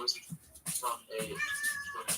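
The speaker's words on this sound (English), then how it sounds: "let me let my cat out" A house cat asking to be let out meows a few times up close, the calls mixed in with a person talking over them.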